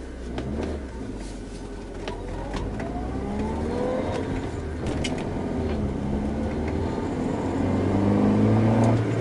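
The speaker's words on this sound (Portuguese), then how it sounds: "Vamos ver se o carro ficou bom de andar" A Honda Civic engine on a test drive after repair work for a faulty knock sensor, heard from inside as it accelerates through the gears, rising and falling revs under steady road noise, with no talking.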